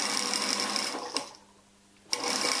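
A sewing machine stitching fabric for a Christmas table set runs steadily, pauses for under a second, then starts up again; close and fairly quiet with no talk.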